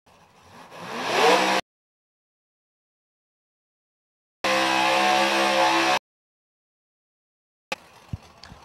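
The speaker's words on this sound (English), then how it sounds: "The Pro Charged Mustang at 11 in Ohio. It is the noisemaker" Phil Hines' Pro Charged Mustang drag car roars in loud, harsh bursts at a Lights Out 9 drag racing event, broken by abrupt silent gaps and followed by a few sharp pops.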